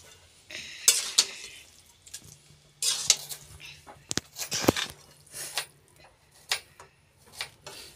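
Chowmein stirred in a kadhai, with scattered metallic scrapes and clinks of a spatula against the pan over a soft sizzle, close and moderately loud, with irregular pauses.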